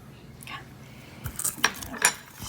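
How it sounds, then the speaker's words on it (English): Spoons or utensils clink and scrape against a bowl while yogurt-marinated chicken is stirred, a few soft, irregular knocks and chinks close by with little else around. "Stir this around a bit."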